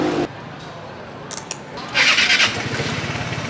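A Vespa scooter engine starts up on a city street, a loud buzzing burst kicking in after a quieter stretch with a few brief clicks, then settling into a steady, near rumble with faint voices mixed in.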